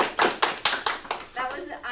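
A small group at an entrepreneurship centre gives a brief round of applause: a few distinct, separated claps in an uneven rhythm, moderately near and fairly soft, with a voice speaking toward the end.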